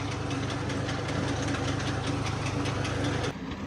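A tractor-driven reaper cutting a chickpea field, with a loud, steady diesel engine drone and a rhythmic mechanical pulsing that drops off abruptly just before the end.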